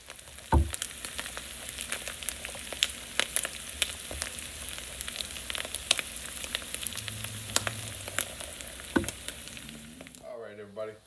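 Roast beef hash sizzles and fries steadily in a cast iron skillet, with scattered pops and occasional scrapes or clinks, a close, continuous sizzle that cuts off near the end.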